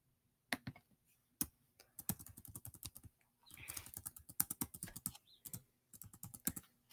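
Computer keyboard typing as a slide title is entered in Google Slides, with quick bursts of close, crisp key clicks, short pauses between words and a brief hurried run midway.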